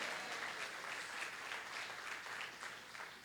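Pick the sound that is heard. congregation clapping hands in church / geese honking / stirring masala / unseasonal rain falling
congregation clapping hands in church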